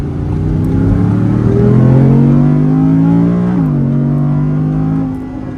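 A rebuilt Audi R8 sports car accelerates hard, its engine note rising in pitch through a gear change with a brief dip, loud and close before easing off at the end.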